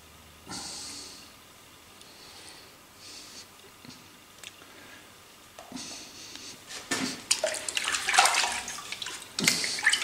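Water running onto a metal part during rust removal with citric acid and white wine vinegar, heard as intermittent hissing splashes and gushes that build louder and more broken toward the end, with no talking.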